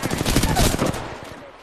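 Rapid automatic gunfire in a video game, a dense burst of shots lasting under a second that then trails off into fading echoes.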